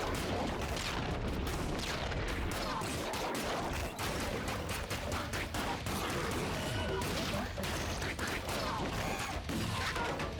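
Wall-mounted spider enemies firing ricocheting bullets in ScourgeBringer, a dense, continuous barrage of crackling shots and impacts, loud and busy throughout with no pause.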